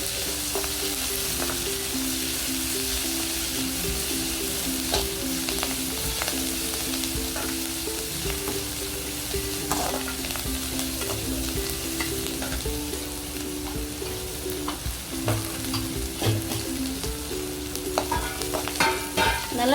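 Coriander and curry leaves sautéing in a pan while making sweet and spicy paniyaram from idli batter: continuous close sizzle with frequent stirring scrapes, alone with no talk.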